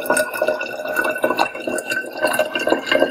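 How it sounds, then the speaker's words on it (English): Distilled water poured into a container while diluting tap water for coffee, a trickling, dripping stream with bright splashy bursts and a rising fill tone, close up and alone. "And I add distilled water"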